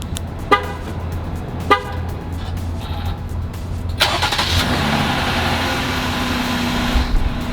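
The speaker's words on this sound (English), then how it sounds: "This is a cold startup on a 2020 Jeep Gladiator Rubicon." A 2020 Jeep Gladiator Rubicon engine cranks and catches on a cold start, settling into a loud steady idle close by, after a couple of short horn-like toots.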